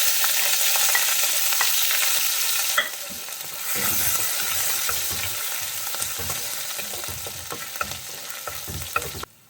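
Finely chopped ginger and garlic sizzle in hot oil in a pan for Kerala-style beef ularthiyathu, a loud, steady frying hiss that dips briefly, then continues with intermittent stirring clinks and scrapes.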